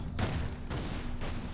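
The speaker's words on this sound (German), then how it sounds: "das sind die ganzen Fässer noch mit explodiert" A few heavy, booming barrel explosions in Assassin's Creed 4 Black Flag follow one another in quick succession, loud and close, with a crackling burst trailing each one.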